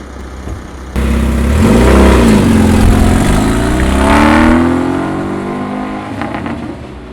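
A classic car engine runs loud and close, with a smooth mid-pitched drone that rises and falls through two revving swells before easing back, and no voices over it.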